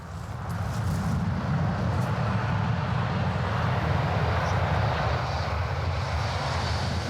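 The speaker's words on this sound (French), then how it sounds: "On pourrait presque imaginer que c'est un bruit d'avion." A continuous low roar like an airplane droning overhead, steady and loud throughout with broad rumbling noise heard at a neighbour's house.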